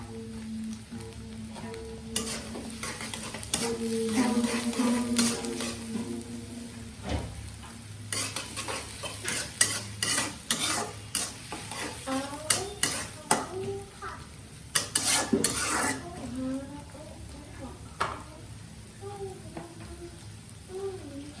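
Chopped onion fries and is stirred in a pan for a potato and spinach vegetable curry, a steady sizzle broken by scraping stirs, with voices faintly in the background.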